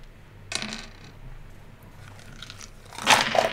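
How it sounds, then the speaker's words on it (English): A handful of dice clattering onto a tabletop during a tabletop role-playing game session, two short bursts of rattling clicks about two and a half seconds apart, close and fairly quiet. "That sounds like a lot of dice."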